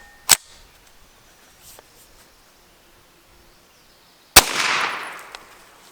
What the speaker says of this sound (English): So we are shooting 9mm